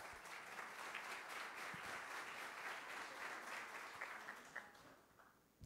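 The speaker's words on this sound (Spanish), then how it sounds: "Un aplauso, por favor." Audience applause at a university presidential investiture ceremony welcomes the board of trustees president, a dense steady roar of many hands that holds for several seconds, then thins and fades near the end.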